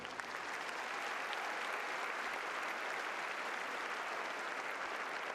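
Crowd applause at a county high school graduation ceremony in 2025, a continuous, dense wash of clapping from a large audience, steady and even for the whole stretch and heard from some distance.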